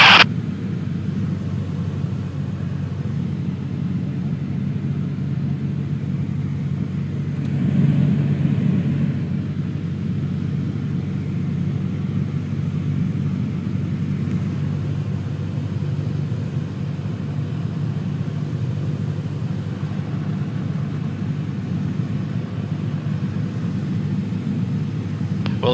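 Inside a Cessna light aircraft flying over Tahoe, the engine and airframe give off a steady, droning, low rumble that runs without a break, swelling briefly partway through, with no voices heard.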